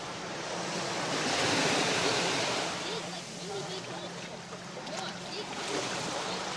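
Surf rolling in at Turtle Beach on Siesta Key, Florida, as a broad steady wash of waves with wind buffeting the microphone, fairly loud and close.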